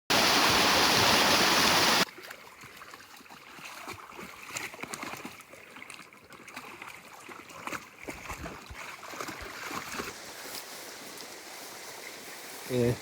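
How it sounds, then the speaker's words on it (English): Water from a waterfall swollen by weeks of heavy rain, along a woodland dog-walking path. A loud, close rush of noise opens the clip, then gives way to a steadier, fainter roar of flowing water with small splashes and shuffling. "We had heavy rain last few weeks, so we had waterfall everywhere."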